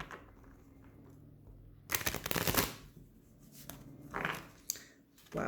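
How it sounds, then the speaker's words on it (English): Tarot cards shuffled in a burst of rapid riffling and flapping, then a few softer shuffles and slaps, close and fairly quiet, with no talk. "Wow, that was an interesting shuffle"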